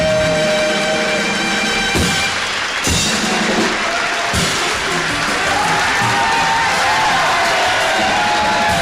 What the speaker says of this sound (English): Thank you for that unexpected burst of applause